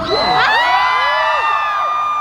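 A large premiere audience at the Auditorio Nacional in Mexico City cheers and screams loudly, a dense sustained roar of many voices with high whoops rising over it, close and continuous throughout.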